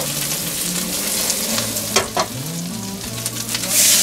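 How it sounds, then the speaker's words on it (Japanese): Green onion bread rolls fry in a pan with a constant close sizzle, punctuated by a few sharper crackles and clatters as the rolls are placed and shifted. "最後の一つを巻き上げたらフライパンに並べて焼きに入りましょう。"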